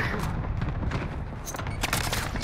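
Dense, continuous gunfire crackles throughout a Call of Duty: Modern Warfare firefight, with overlapping shots and booms near and far and no clear single sniper crack standing out.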